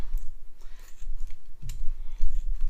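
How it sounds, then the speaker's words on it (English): Scissors trim extra tulle from a decorated craft pumpkin, making a run of close, crisp snipping and clicking cuts at a steady working pace, with no voices. "Now you're going to have a bunch of extra tulle, so you're just going to trim that off."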